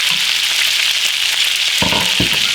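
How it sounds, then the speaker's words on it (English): Browned meatballs go into a pan of sauce with a loud, steady sizzle, then two soft, heavy plops close together near the end. "Now I'm going to go ahead and throw them in this sauce"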